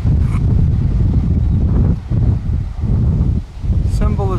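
Strong wind gusts roar steadily beside railroad tracks as a Norfolk Southern freight train passes, a loud buffeting rush that briefly dips and returns, with a short high whine near the end.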